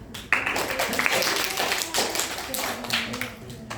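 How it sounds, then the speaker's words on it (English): Classmates in a microteaching lesson give a brief round of applause, scattered claps of a small group that rise and fade over a few seconds, with a voice speaking over them. "applause to Amanda"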